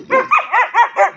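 A Bhotiya dog barks close and loud in a quick series of about five sharp, yelping barks in an even rhythm. No one talks over the barking.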